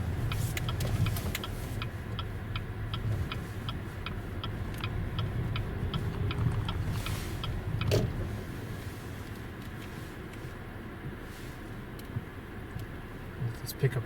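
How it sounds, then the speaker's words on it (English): A pickup truck rolls past on a rural road beside fields being harvested, its broad engine and tire rumble steady and fairly close, with a brief louder swell midway, while a person talks over it. "Let this pickup truck pass by."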